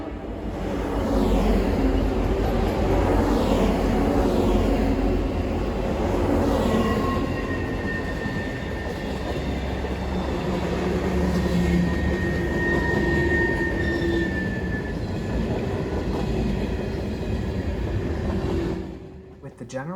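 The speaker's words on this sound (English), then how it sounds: "we followed this train southbound from Wasilla down towards Anchorage" An Alaska Railroad freight train passes near Wasilla, heading south toward Anchorage at around 25 mph. A loud, steady rumble carries sustained tonal squeals throughout and drops away sharply at the very end.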